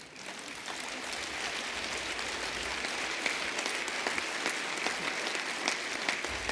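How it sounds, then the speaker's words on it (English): Sustained, dense applause from an audience at the 2022 Bob Hoover Wingman Award ceremony, steady and full throughout with no voices over it. "one more round of applause for the 2022 Wingman Award winners"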